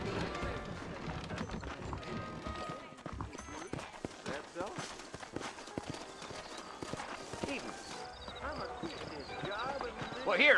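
Horses' hooves clip-clop along a trail in the Red Dead Redemption video game, a steady trotting rhythm under clear male conversation and occasional tack noise.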